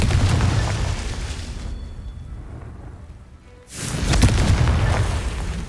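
Confringo spell blast in Hogwarts Legacy, a loud rumbling explosive roar that fades into a quieter lull before a second heavy booming burst swells back in.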